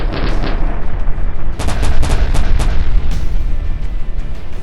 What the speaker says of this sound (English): It would quickly fire a full pod of thermobaric rockets at urban areas or trenches, burning down entire blocks.